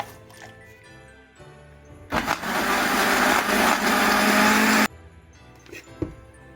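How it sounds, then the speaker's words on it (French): A kitchen blender whirs loudly for about three seconds as it purées a jerk marinade with salt and white vinegar, with quieter kitchen clatter before and after. "maintenant je viens finir avec le vinaigre blanc, l'équivalent de 2 cuillères à soupe et je vais mixer le tout."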